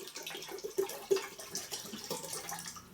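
Rum is poured into a homemade coffee liqueur mixture, a soft, close, continuous liquid trickle and splash with small gurgles, fairly quiet and lasting a few seconds without any talk.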